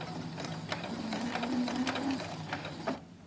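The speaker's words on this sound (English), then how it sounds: "When I'm at the end of the fabric, I'm going to do a couple of stitches backward" A sewing machine runs a few stitches backward at the end of a piece of fabric, giving a close, rapid mechanical ticking and whirring for about three seconds before it stops.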